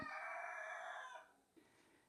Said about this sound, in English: I had to wait for the roosters to stop crowing. They're still going.